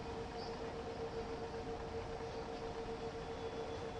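Freight train rolling along the Main-Spessart line in Train Sim World 5, a steady loud rumble of wheels and engine with a constant tonal hum, no stops or breaks, and no talking.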